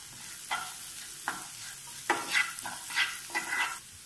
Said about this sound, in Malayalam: അത് നന്നായി ഒന്ന് വഴണ്ട് വരട്ടെ. അതുവരെ ഒന്ന് ഇളക്കി കൊടുക്കാം.